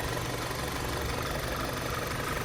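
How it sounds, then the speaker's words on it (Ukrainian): An Audi TFSI engine idles steadily with a dense, even rumble and faint knocking, unchanging and close throughout. "Мотор працює рівно."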